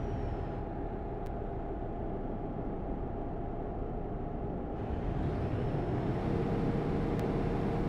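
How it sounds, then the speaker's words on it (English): A heavy truck in Euro Truck Simulator 2 drones with a steady low engine rumble and road noise, continuous and unchanging, growing slightly fuller toward the end with no voices. "I was just hearing the sound of the truck"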